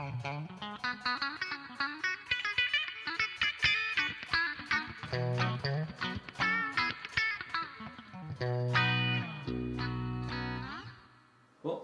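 A PRS electric guitar wired with switchable parallel/series pickups plays a run of plucked notes and chords with a nasal, quacky tone, loud and alone, ending on a sustained low chord that fades.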